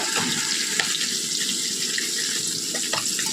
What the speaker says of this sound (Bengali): সামান্য একটু জল দেবো